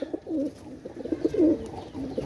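Pigeons of a Pakistani show breed coo repeatedly in soft, throaty rolling phrases, close by and fairly loud, with no talk over them.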